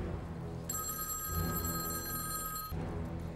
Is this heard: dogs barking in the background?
no